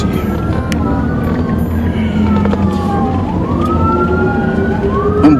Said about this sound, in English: You done got the new siren?